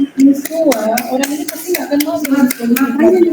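A group of teachers in a school training session gives a round of applause, sharp irregular claps under a voice speaking and some light laughter.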